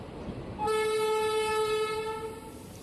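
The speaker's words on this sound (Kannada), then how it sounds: "ಹೈದರಾಬಾದಿಂದ ಬರ್ತಿರೋ ಟ್ರೈನ್ ಇದು ವಿಜಯಪುರಕ್ಕೆ ಹೋಗುತ್ತೆ." Hyderabad–Vijayapura express train arriving at Kalaburagi Junction, sounding one long loud steady horn blast that begins abruptly after a moment of station rumble and holds to the end.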